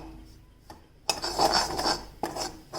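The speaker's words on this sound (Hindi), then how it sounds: "देखिए स्लो गैस पे अब हम इसको भून रहे हैं।" Besan being stirred and roasted in a pan over a low flame, heard as soft scraping and clinking of a spoon against the metal in uneven strokes, close and fairly quiet.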